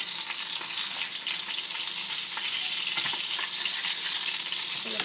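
Food sizzles continuously in a hot pan while cooking for Cuban-style black beans, a steady, close, crackling fry with no pauses and no one talking.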